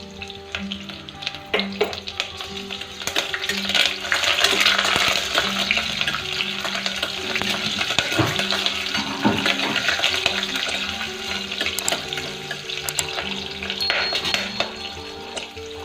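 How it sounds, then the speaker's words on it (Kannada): Green chillies and a bay leaf fry in ghee for ghee rice, a busy close sizzle running throughout, mixed with stirring, clinks of a utensil against the pan and occasional clatter. "ಈಗ ಎರಡು ಹಸಿಮೆಣಸಿನ್ಕಾಯಿ ಮತ್ತು ಪಲಾವ್ ಎಲೆ ಹಾಕಿ ಸ್ವಲ್ಪ ಫ್ರೈ ಮಾಡ್ತೀನಿ"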